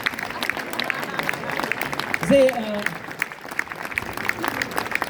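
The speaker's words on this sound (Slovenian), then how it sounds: "tako da en velik aplavz" Audience applause welcoming a special guest at a student octet concert in Stari Velenje, steady clapping under a presenter's voice, with a brief shout partway through.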